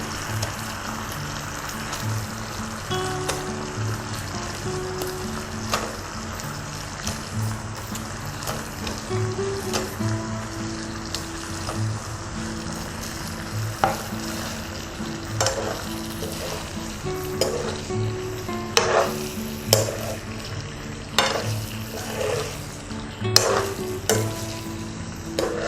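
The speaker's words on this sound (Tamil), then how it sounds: "இது அப்படியே நல்லா இது எல்லாத்துக்கும் பரவுற மாதிரி நம்ம அதை கிளறி விட்டுக்கலாம்." Veg Manchurian balls fry in a pan with a continuous sizzle, while a spoon stirs them in repeated scraping strokes that grow more frequent and louder toward the end.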